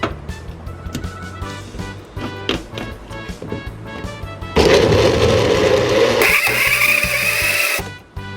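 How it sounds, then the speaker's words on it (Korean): A blender grinding chicken starts with choppy, uneven grinding, then surges into a loud, continuous high-speed whir for several seconds before cutting off abruptly. "오늘의 메인 재료인 닭고기 두덩이를 곱게 갈아주세요."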